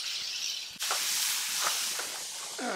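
Two bacon slices sizzling over a preheated charcoal grill, a steady bright hiss with crackling pops running throughout, close and loud, with no talk.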